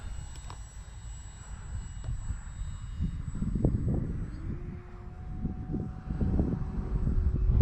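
A Skynetic Shrike RC glider launches outdoors at about half throttle. Its small electric motor gives off a thin whine that rises in pitch and fades away against rumbling wind buffeting the microphone.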